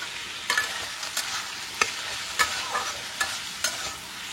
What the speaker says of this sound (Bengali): আমি চিংড়ি মাছটাকে ফার্স্টে ভেজে তুলে নেবো